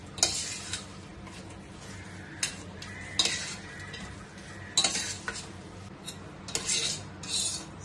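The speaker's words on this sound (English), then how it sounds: "So just continuously stir it." Garden cress seed laddu mixture being stirred constantly in a hot pan, with repeated spoon scrapes and knocks against the metal over a low sizzle and no talking.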